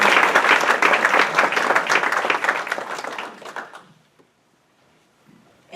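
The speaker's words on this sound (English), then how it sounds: "If y'all give them a quick round of applause" A quick round of audience applause at a Humble business community meeting, many hands clapping loudly and densely for several seconds before thinning out and fading into near silence.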